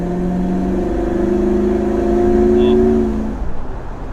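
An LS3-swapped wagon fitted with a Magnaflow xMod exhaust revs up with a rising, droning engine note that builds, holds and then drops off, loud and close with no talk over it.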